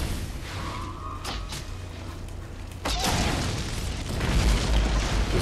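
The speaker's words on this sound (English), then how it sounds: "Oh man, this grenade is so awesome." A grenade goes off in the fantasy action game Hunted: The Demon's Forge, a sharp crack that opens into a loud, rumbling blast and lingering roar amid ongoing combat noise.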